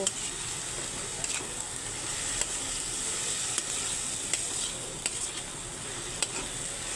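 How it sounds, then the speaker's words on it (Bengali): Turmeric, chilli, coriander and cumin powders fry in oil for a Katla fish curry. A constant close sizzle runs throughout, with light clicks of a spatula stirring the pan now and then. "এইবারে দিয়ে দিচ্ছি হলুদ গুঁড়ো লঙ্কা গুঁড়ো ধনে গুঁড়ো আর জিরে গুঁড়ো এখন ভালো করে কষিয়ে নেব"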